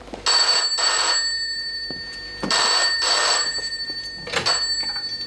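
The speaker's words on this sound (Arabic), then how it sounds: "تليفون عشان أميرة" Landline telephone ringing in a house, three long repeated rings with short pauses between, loud and near with no one talking over it.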